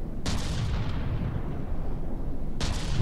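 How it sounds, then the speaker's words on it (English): Two heavy booming shots from a 500mm APS cannon in the game From The Depths, spaced a couple of seconds apart over a dense rumbling battle backdrop. "alright, now we fired a little bit there."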